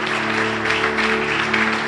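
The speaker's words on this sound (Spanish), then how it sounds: "Si le va a dar un aplauso al Señor, dáselo fuerte." Church congregation applauding during a Spanish-language evangelical service, a steady, dense wash of clapping lasting the whole moment, with a sustained organ or keyboard tone held underneath.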